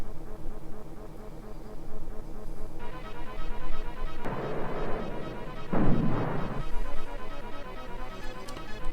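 A bomber attacks a battleship in the SNES strategy game Super Conflict, with two short crashing explosion bursts over a steady looping chiptune music background.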